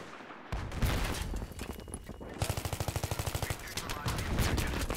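Battlefield 3 gunfire against tanks: loud bursts of rifle and machine-gun fire, including a run of rapid, evenly spaced shots, mixed with battle noise.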